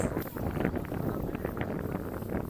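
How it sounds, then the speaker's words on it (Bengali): Strong wind gusting steadily outdoors in a rural Bangladeshi village near water, a dense, roaring rush of noisy buffeting against the microphone throughout, with no pauses. "এত পরিমাণ বাতাস"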